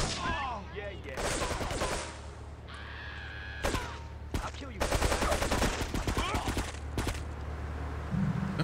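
Gunshots in Grand Theft Auto III Definitive Edition ring out in loud, close volleys, with rapid automatic bursts alternating with single cracks among game effects and a voice talking.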